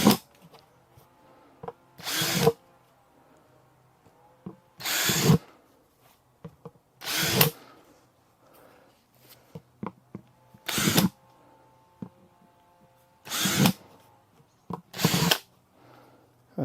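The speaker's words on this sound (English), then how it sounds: "I'll just get my little drill and drill some holes in those" A small power drill bores drainage holes in plant pots, heard as six short, loud whirring bursts spaced a few seconds apart with quiet gaps of handling noise between them.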